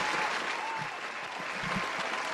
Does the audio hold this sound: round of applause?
yes